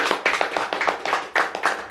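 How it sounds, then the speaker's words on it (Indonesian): A small audience claps to welcome a new guest, quick close hand claps in an uneven, bunched rhythm over a couple of seconds. "Kasih tepuk tangan yang baru"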